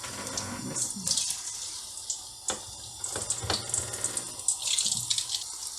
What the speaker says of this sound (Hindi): तेल हमारा अब गर्म हो चुका है। अब हम डालते हैं फ्राई करने के लिए।